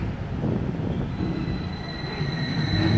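A Vekoma roller coaster train dispatching from the station, heard as a steady rumble of rolling wheels with faint high squeals over a continuous low mechanical drone.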